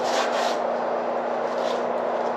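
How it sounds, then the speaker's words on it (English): Crumpled tin foil and mystery oil rubbed over rusty bike metal, making a steady, close scrubbing hiss with a few stronger strokes. "just scrubbing away"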